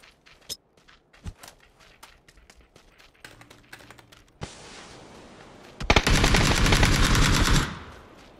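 PUBG gameplay: scattered sharp clicks and single shots build into a loud, sustained burst of automatic gunfire lasting about two seconds before cutting off, with no voices.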